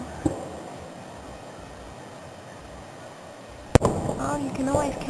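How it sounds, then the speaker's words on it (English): Fireworks display at Cranley: a sharp distant pop early on, then a loud near bang followed by a rumbling crackle and fizzing bursts, over steady outdoor background hiss. "Oh, the fireworks are back."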